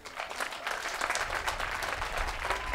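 Audience applause at an outdoor MLK celebration event, a moderately distant, continuous patter of clapping from a crowd that holds steady throughout.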